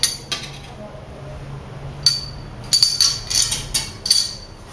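A water-wetted knife cuts through cheese on a kitchen surface while pizza is being made, giving a few light, close metallic clinks and taps, with scattered clusters of knocks toward the end.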